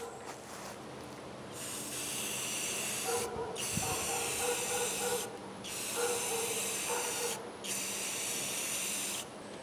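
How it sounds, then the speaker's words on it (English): Rust-Oleum brown camo spray paint hisses from an aerosol can in three long, close bursts separated by brief pauses, with faint rattling underneath. "So I just burned through what was left in this can. Rust-Oleum camo paint, brown."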